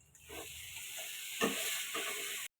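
Ground chilli powder, salt, sugar and spices being stirred and fried in a pan for a vegetarian cauliflower roast, a steady close sizzle with a few scraping stirs, ending abruptly.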